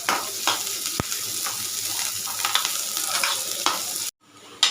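Onions and garlic frying in a pan, a steady close sizzle with a sharp clunk of the utensil near one second, stirring scrapes throughout, and a brief silent gap before the sizzle returns.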